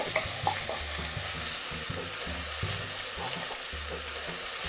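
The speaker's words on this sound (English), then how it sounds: "Ilalagay na rin natin ng onion. Isusutay natin ito for about 2 minutes" Onion sautéing in a pan, giving a steady close sizzle with occasional stirring scrapes throughout, no voices.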